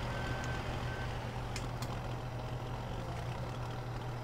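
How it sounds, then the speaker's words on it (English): Idling tractor engine in Farming Simulator 17 on the Shamrock Valley map, a continuous low droning rumble at steady level, with a couple of brief sharp clicks partway through. "Listening to the idle of that tractor,"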